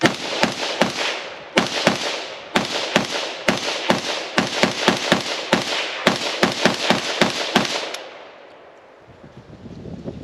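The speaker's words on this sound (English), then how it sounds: "I'll put a mag through the Hellion first" Rapid semi-automatic gunshots from a Springfield Hellion bullpup rifle emptying a full magazine of lightweight ammunition, around two dozen loud, close, sharp reports in a fairly steady rhythm with brief gaps, then quiet.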